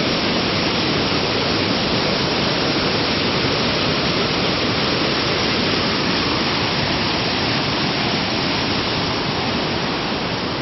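The waterfall at Edessa, Greece roars as a dense, unbroken rush of falling water, loud and close for the whole stretch.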